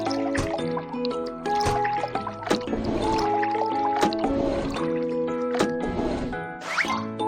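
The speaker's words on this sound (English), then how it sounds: "Pour liquid into the correct tank." In a cartoon car-repair game, liquid pours into a car tank, giving steady gurgling and splashing under bright, tonal game music and sound effects throughout.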